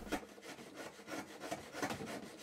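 A hand chisel pares waste from wood on a mitered corner box, making soft, rhythmic rasping strokes about three or four per second, close and fairly quiet, with no voices.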